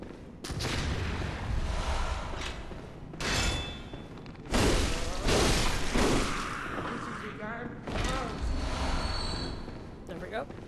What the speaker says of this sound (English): Yeah, someone's shooting at me.